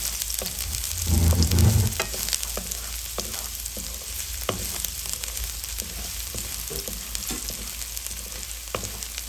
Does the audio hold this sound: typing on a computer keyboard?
no